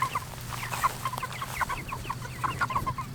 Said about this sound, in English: You can see that's the life of a meat chicken.